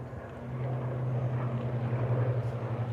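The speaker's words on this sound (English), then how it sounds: "hey, y'all see that plane flying by?" Airplane flying by over open country in Central Texas on a hot day: a steady, droning engine hum that holds moderately loud throughout, with no voices.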